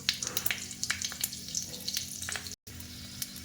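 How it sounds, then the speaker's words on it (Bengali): Vegetables fry in hot white oil in a kadai with panch phoron and green chilli, giving a close, steady sizzle broken by quick crackles and pops. "সাদা তেল দিয়ে দিলাম সবজিগুলো ভাজার মতন গরম হয়ে গেছে এখন দেব পাঁচ ফোড়ন আর কাঁচা লঙ্কা"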